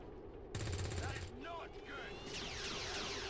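Overwatch gunfire in the strategy game XCOM 2 against a mech, a burst of rapid shots crackling under a sustained game soundscape, with a voice talking over it.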